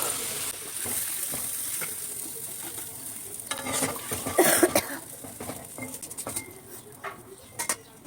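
Faint sizzling with scraping and clattering of a spatula stirring potatoes and cauliflower in a pan, irregular bursts, a soft cough-like sound in the middle.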